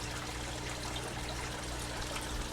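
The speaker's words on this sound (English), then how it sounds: "That's my water flow on that one." Water trickles and flows steadily through an aquaponics system, a soft continuous gurgling stream heard faintly and evenly throughout, with no voices.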